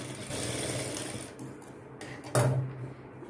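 Sewing machine stitching a blouse at the waist, a steady close mechanical whirr that pauses briefly, then restarts with a sharp knock and short burst of stitching.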